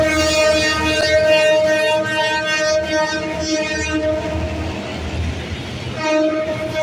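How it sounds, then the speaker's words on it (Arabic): A train passes a railway crossing in Mamoura with a loud, sustained horn blast over the rumble of the cars, fading slightly midway before the horn sounds strongly again at the end. "اللي بيعدي اي سكة قطر خلي باله الصوت عالي قوي"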